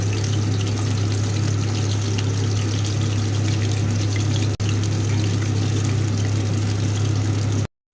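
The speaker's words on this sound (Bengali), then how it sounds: "মাছগুলোকে এক এক করে তেলের মধ্যে দিয়ে দিয়েছি।" Batter-coated pieces of aar catfish fry in hot oil with a continuous, even sizzle over a low steady hum, close and without pause.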